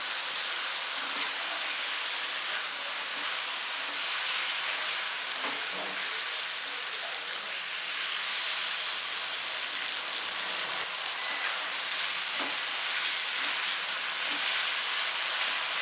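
Continuous dense crackling and sizzling of boiled chickpeas and pickle frying in spiced oil, steady and close throughout with occasional soft stirring clicks.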